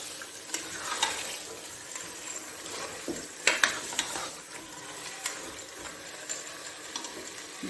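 Ingredients for Bannu beef pulao frying in a pot, a low steady sizzle broken by scattered metallic clinks and scrapes of stirring, quiet and close, no voices.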